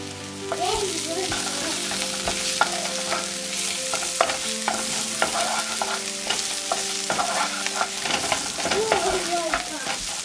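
Whole garam masala spices fry in hot oil in a pan while being stirred, a close continuous sizzle broken by repeated scraping stirs and clicks of the utensil.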